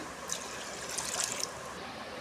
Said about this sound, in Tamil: 1/2 கப் பருப்புக்கு 2 கிளாஸ் தண்ணி ஊற்றிக்கோங்க.